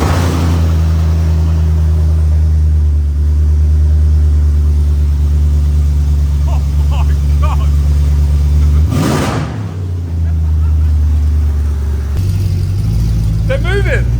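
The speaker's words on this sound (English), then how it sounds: "You have to start it without the exhaust on." A loud Mercedes C63 engine running with its exhaust removed rumbles and idles close by, with a brief rev, while people talk over it.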